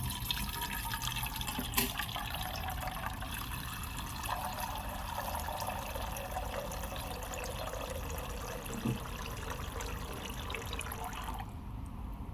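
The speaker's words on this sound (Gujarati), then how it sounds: "પાણી નાખતા જઈએ બનાવતા જઈએ" Water being added to bread pakoda batter, likely besan with salt, coriander and garam masala, making a steady close trickle and splash throughout with no speech.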